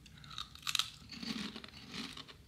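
Close crunching and chewing of kettle-style jalapeno potato chips, with a sharp bite followed by several crisp, uneven crunches, loud and near with no talking.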